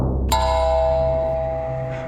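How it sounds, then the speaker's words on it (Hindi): A temple bell strikes once with a bright metallic clang, then rings on in a long, slowly fading tone, loud and close over a low rumbling background. "मंदिर की घंटियां अपने आप बजने लगी"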